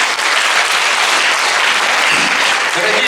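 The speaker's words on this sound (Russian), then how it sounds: "Давайте встретим овациями," Loud, dense audience applause and ovation welcoming a singing duet at a concert, a continuous roar of many clapping hands filling the space with no pauses.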